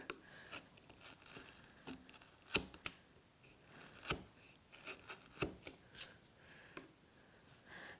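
Hand chisel paring thin shavings from the sides of a tiny dado in wood, a quiet series of short, sharp scraping clicks and soft rubs spaced irregularly, close and faint.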